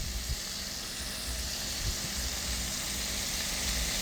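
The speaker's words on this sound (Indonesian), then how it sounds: "Teknik menggoreng ini dinamakan deep frying atau menggunakan minyak banyak." Flour-coated chicken deep fries in plenty of oil for sweet and sour fried chicken, giving a steady, dense sizzle and hiss with light crackling throughout and no voices.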